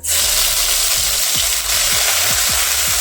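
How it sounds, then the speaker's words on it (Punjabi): Ginger and garlic fry in hot oil with cumin already tempered, giving a loud, dense, continuous sizzle up close, with a few soft low thumps from stirring and no voices. "ਹੁਣ ਆਪਾਂ ਇਹਦੇ ਵਿੱਚ ਅਦਰਕ ਤੇ ਲਸਣ ਪਾ ਦਵਾਂਗੇ"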